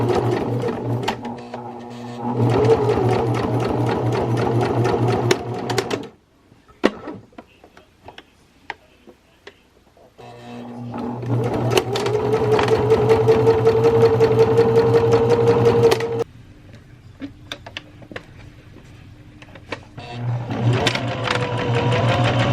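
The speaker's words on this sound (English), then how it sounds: "you just finished seeing me iron on and sew up all of the labels for the bag" A sewing machine stitches fabric labels onto a bag, its motor whirring in steady bursts of rapid needle ticking, loud and close, broken by pauses and a quieter stretch between runs.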